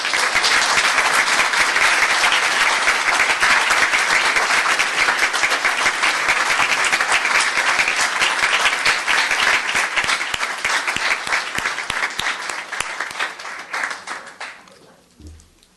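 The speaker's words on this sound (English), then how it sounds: "And let's give them a round of applause." Dense audience applause at a town council meeting, many hands clapping loudly and steadily before tapering off and fading out near the end, with no talk over it.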